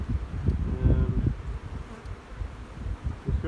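Honey bees buzz at a spring hive during cleanup, a low dense drone close by that swells and fades slightly with no voices.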